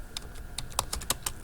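Typing on an international computer keyboard, a quick irregular run of crisp close key clicks with uneven gaps and no voices.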